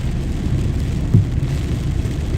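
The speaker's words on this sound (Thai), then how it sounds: "ฝนตกลงมาหนักมากนะนี่หน้าโรงเรียนปรินซ์ลอยก็ เป็นอย่างนี้นะครับนี่น้ำท่วมขัง" Heavy rain pours steadily onto a flooded street outside a school in Chiang Mai, a dense, even low wash of falling water with a brief louder splash near the middle and no talking.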